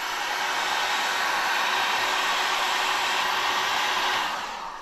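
A heat gun heats the fork tube of a motorcycle during a fork seal replacement, giving a steady loud blowing roar that holds constant for several seconds before easing slightly at the end.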